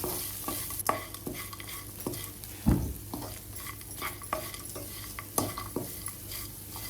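Grated coconut is stirred and roasted in a pan for coconut rice, with soft scraping and occasional spoon knocks over a faint, steady sizzle, close by and unvoiced.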